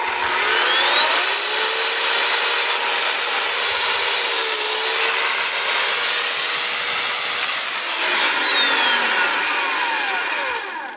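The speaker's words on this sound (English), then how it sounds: "I think it's a 14-inch chainsaw, electric chainsaw" A small 14-inch electric chainsaw, powered from a portable power station, runs steadily for about ten seconds, a loud high-pitched motor whine rising and dipping slightly as it cuts, with no voices.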